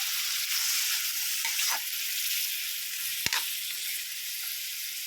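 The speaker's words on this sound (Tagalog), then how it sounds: "Sasangkot na po yung" Chicken pieces sautéing in a hot pan for tinola, a continuous bright sizzle and crackle with a couple of brief stirring scrapes partway through.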